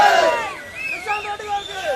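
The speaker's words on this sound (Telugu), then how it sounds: "చప్పట్లు కొట్టడం కానీ కేకలు వేయడం కానీ ఆగండి" A crowd at a memorial meeting lets out a brief burst of loud shouting and cheering, with voices calling out close by.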